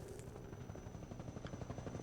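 Combat helicopter from Half-Life 2, original Xbox version: a continuous rapid rotor chop with a steady thudding rhythm, loud and close throughout, with no talk over it.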